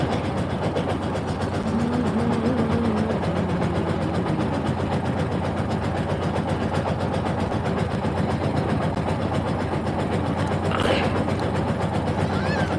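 A boat engine on the Balu river runs with a steady, loud, close mechanical chug and drone that does not let up, with faint voices underneath.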